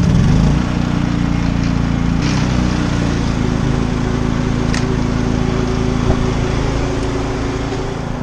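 A large portable generator runs at an RV parking spot with a loud, steady droning engine hum. It holds constant throughout, with a few faint clicks and no speech.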